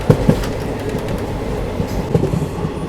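A passenger train hauled by a locomotive runs through the Thar Desert, giving a steady, loud rumble of rail cars with faint clickety-clack wheel beats throughout.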